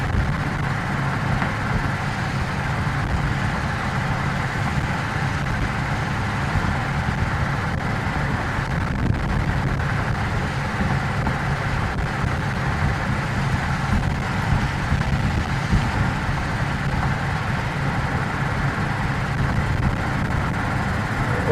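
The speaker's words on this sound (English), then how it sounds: "Looks like it does pick up some noise from inside the car here." Steady interior car noise during a test drive, a continuous broadband road and engine rumble that holds an even level throughout, with no talking.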